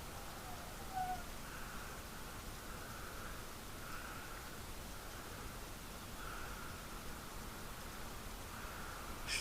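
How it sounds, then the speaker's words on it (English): Cold rain falls outdoors as a steady, soft, even hiss that runs throughout, with a faint high call briefly audible near the start. "And it's like cold and raining"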